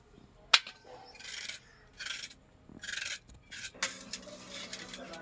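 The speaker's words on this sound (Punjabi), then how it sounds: "ਲੋ ਜੀ ਗਾਜਰ ਆਪਾਂ ਨੇ ਛਿੱਲ ਲੀਆਂ" Carrots being peeled with a hand peeler in a home kitchen: a sharp click, then a series of separate raspy scraping strokes, close and moderately loud, with short pauses between them.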